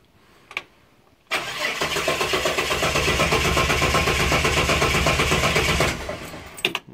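Car engine cranked with the ignition, a loud, sustained, rhythmic churning of the starter lasting several seconds after a quiet pause and brief clicks, then cutting off, close and with no voices.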